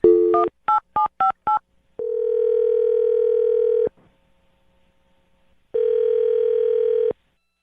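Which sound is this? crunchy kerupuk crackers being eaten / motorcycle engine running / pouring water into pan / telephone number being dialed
telephone number being dialed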